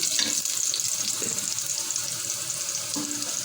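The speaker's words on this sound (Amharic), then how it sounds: "የጋለ ዘይት ላይ ነጭ ሽንኩርታችን አድርገን እንደዚህ ብራውን ሲሆን" Garlic sizzles in hot oil in a pan, a steady, faint, bright crackle and hiss with a few soft clinks over it.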